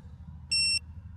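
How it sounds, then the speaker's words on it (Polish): A rangefinder photocell gives one short, clear electronic beep when its button is held down, sharp and close, with quiet background before and after. "przytrzymujemy przycisk do trzech sygnałów."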